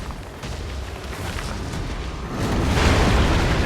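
Explosions from the video game Elden Ring, set in the Stormveil Castle courtyard, produce a loud, sustained, rumbling blast that swells louder toward the end, with no talk over it.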